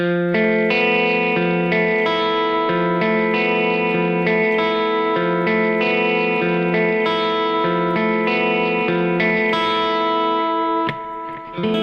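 Distorted electric guitar played with alternate picking, notes attacked in an even, rapid pulse; loud and continuous, fading slightly near the end.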